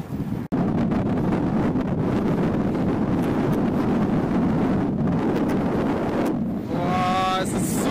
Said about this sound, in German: Boah, es ist super windig! Und der Wind kommt genau von vorne.